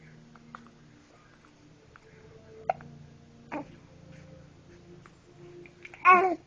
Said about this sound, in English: Hey, are those the hiccups?